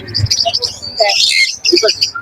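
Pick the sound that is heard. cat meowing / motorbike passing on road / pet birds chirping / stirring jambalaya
pet birds chirping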